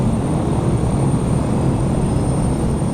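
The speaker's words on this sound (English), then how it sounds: "So as you can hear, the engine sounds are very good." A propeller aircraft engine in a Carenado flight simulator add-on drones steadily at constant power, a dense, even rumble with no pauses or voices.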